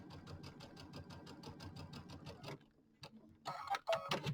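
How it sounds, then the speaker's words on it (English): Sewing machine top-stitching over trim about an eighth of an inch in, a quick even ticking run of stitches for over two seconds, then a pause followed by clattering and handling noises. "I'm just going to go ahead and just sew over the trim, and I'm sewing about 1/8 of an inch in"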